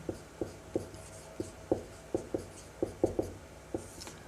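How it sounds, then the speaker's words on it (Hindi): Chalk or marker writing on a board, a dozen crisp separate taps and short strokes in an uneven rhythm, close and fairly quiet, with no talking. "अब यहाँ पर नंबर वाइज लिखते हैं"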